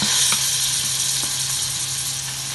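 Coriander and mint leaves sauté with vegetables in a pan for vegetable pulao, producing a continuous bright hiss of sizzling with a few small clicks from stirring, close and steady.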